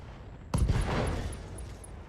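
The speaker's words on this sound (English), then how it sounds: "Target lock on enemy. Let's take some shots." Mech weapons volley in BattleTech, a sudden loud burst of gunfire and blasts, followed by a rumbling tail and a string of faint high electronic pings.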